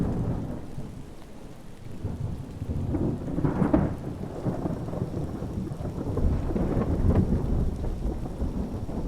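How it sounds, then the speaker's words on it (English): Steady rain falls with a deep rolling thunder rumble building midway in the Fallout Tale of Two Wastelands game world, a continuous stormy wash with no voices. "Raining!"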